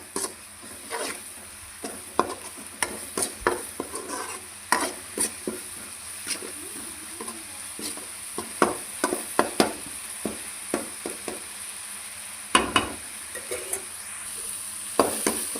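Ginger garlic paste sautés in a pan for an egg curry, a steady sizzle broken by frequent sharp scrapes and clinks of a spatula stirring against the metal, close and fairly loud, with no talking.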